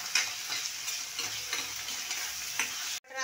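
Onion, tomato and ginger-garlic paste fry in a pan for a crab curry, a continuous close sizzle broken by periodic stirring scrapes, ending abruptly in a brief clatter.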